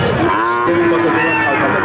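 A cow gives a long, drawn-out moo, loud and close, at a cattle market selling Sahiwal, Gir and Sindhi heifer calves, with faint voices murmuring in the background.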